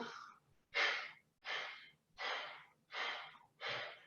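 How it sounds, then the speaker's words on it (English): Breath of fire yoga breathing, six forceful breaths, each a short sharp exhale, evenly spaced at about one every 0.7 seconds, close and alone. "5 breaths, breath of fire"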